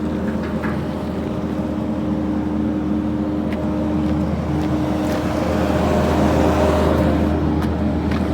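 Rental Bobcat skid steer being taken off a trailer, its engine producing a loud, steady, continuous rumble that builds slightly toward the end.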